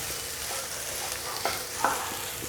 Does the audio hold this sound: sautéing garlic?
yes